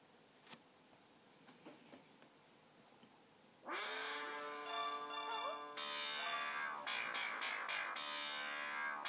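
A cat boss in the game Squeak's Dreams lets out loud, drawn-out meows and yowls, several overlapping cries that start suddenly after a few faint ticks and carry on to the end.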